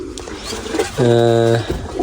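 Pigeons coo from a backyard pigeon loft, a low throaty burst rising clearly for about half a second amid background noise, with muffled voices and bird sounds around it.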